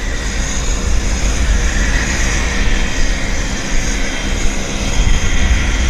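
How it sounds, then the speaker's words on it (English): A Cessna Citation medevac business jet at Vancouver airport roars steadily, a broad loud engine rush with a high whine that holds without pause. "Bizjet or Medevac. Citation Medevac."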